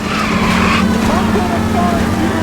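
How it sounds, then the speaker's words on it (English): Tires skid and squeal as cars tear through an illegal street race at 1st and Santa Fe in LA Noire, with loud engine roar throughout and a voice talking over the continuous screech. "Reports of an illegal street race."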